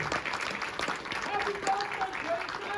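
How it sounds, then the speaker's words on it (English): Audience at a documentary world premiere Q&A claps in a soft, steady wash while someone speaks over it close by. "we'd love to give you a round of applause"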